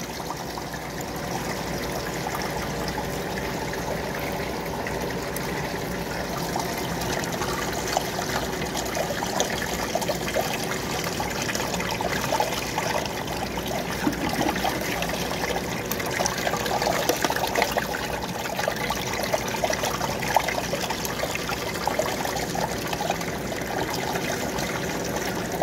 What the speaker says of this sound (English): Y'all wash that black sand right out of there.